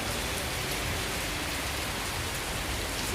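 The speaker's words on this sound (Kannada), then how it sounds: "ಮಳೆ ಅಂತೂ ಚೆನ್ನಾಗಿ ಬರಕತ್ತ, ಜೋರಾಗಿ ಬರಕತ್ತ ಮಳೆ." Heavy rain pours down steadily and loudly, a dense unbroken wash of drops drumming on surfaces nearby, with no voices.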